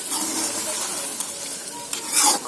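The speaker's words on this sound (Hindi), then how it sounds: "ये देखें अच्छी तरह से भून लिया है हमने।" Chicken lobia masala with potatoes is stirred and fried in a pot, a continuous close sizzle with scraping stir strokes throughout, loud and steady with no voices.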